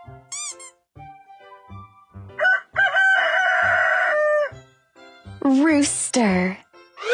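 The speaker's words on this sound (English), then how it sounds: "R-O-O-S-T-E-R, rooster." A rooster gives one long crow in the middle, set among short playful musical notes, with bright rising tones near the end.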